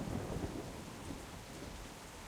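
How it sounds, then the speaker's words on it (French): Rain and thunder in The Walking Dead video game, a low rolling thunder rumble over a steady wash of falling rain, fairly quiet and continuous with no speech. "d'un coup il pleut bizarrement"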